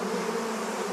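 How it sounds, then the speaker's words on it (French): A swarm of African bees in a Brazilian garden drones in a dense, continuous buzz, close and steady throughout. "Oh, il y a un essaim d'abeilles."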